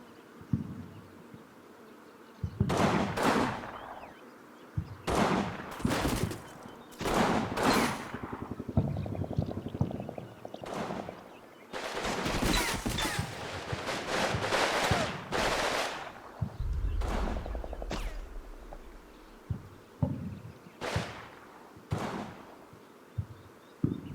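Gunfire and machine guns in the war game Combat Mission, with short rapid bursts and single sharp cracks spread in irregular clusters, some close and loud, others fainter, with a brief low rumble between.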